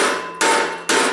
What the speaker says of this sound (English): Just take a hammer. It don't matter what kind of hammer you got, but just knock it down real good